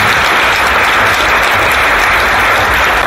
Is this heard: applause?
yes